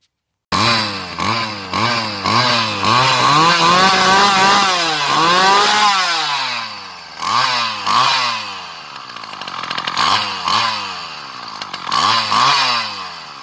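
Repaired petrol brush cutter engine revving repeatedly, loud and close, with sharp rising and falling throttle sweeps, one longer sustained high rev, then more blips settling toward idle.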